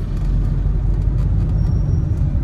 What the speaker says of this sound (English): The bus is making a U-turn.